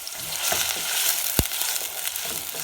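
Onions fry in a pan for githeri with cabbage and potatoes, giving a steady, close sizzling hiss with a few small pops and no voices.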